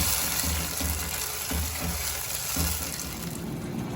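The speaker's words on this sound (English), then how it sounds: "Add a splash of water in there just to get the rest of that sauce out" A splash of water poured into sauce in a hot pan brings a steady, close hiss of sizzling and watery gushing that continues through the moment without speech.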